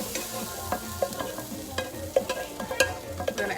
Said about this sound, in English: And then a nice little saute.